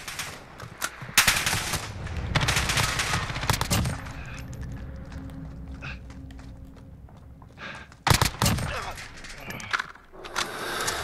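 An MCX Virtus short-barreled rifle with a 9-inch barrel fires in Call of Duty Modern Warfare close-quarters combat, with rapid bursts of automatic gunfire at the start and again near the end, quieter movement sounds between, and a voice speaking.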